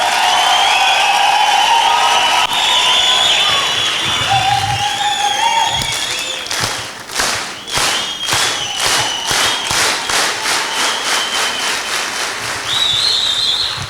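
Audience applause with scattered cheers and whistles in a church gathering, rising in the second half into a burst of rhythmic clapping, loud and close with a background murmur.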